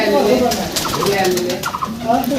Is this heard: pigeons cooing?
yes